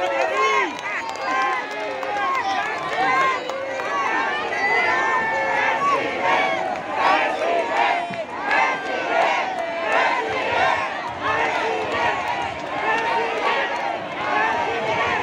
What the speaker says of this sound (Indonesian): Sekali lagi kita berikan yang tepuk tangan yang paling meriah untuk Bapak Anies Rashid Baswedan